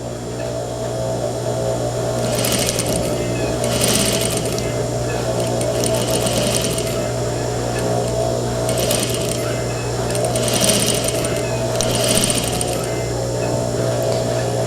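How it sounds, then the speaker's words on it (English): A sewing machine understitches a seam allowance down to the facing on a fly front zipper, humming steadily with bursts of rapid ticking stitches that come and go over a constant motor drone, close up. "Basically, we are stitching the seam allowance down to the facing."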